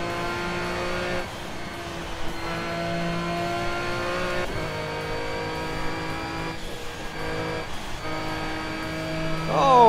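Race car engine in Project CARS at the Nurburgring holds a steady high drone with gear shifts and pitch changes, revving harder near the end, with no talk over it.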